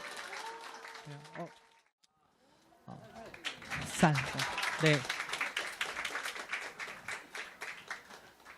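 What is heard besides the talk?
audience applause in church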